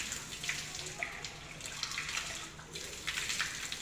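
Water poured from a small container over the forearms toward the elbows during wudu ablution, splashing steadily with a few louder pours, close by and with no talk.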